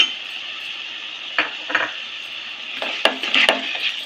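A spoon clinks and scrapes against a pot while turmeric is stirred into mutton with ginger paste for mutton rogan, over a steady sizzling hiss, several sharp metallic taps toward the end.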